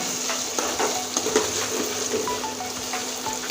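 Cumin and ground spice paste sautéing in a pan for Bengali-style chicken masala, a steady close sizzle broken by scattered soft scraping and clicking from stirring.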